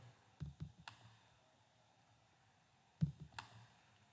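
Two quick pairs of computer mouse clicks, crisp and close but very quiet, separated by a stretch of near silence.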